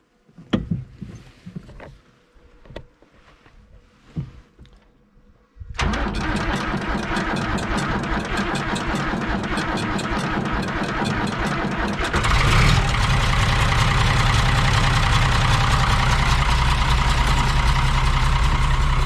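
A John Deere 3140 tractor diesel engine cranks in cold weather with a few uneven, sputtering attempts, then catches and settles into a loud, steady rumbling idle that grows even louder and fuller partway through.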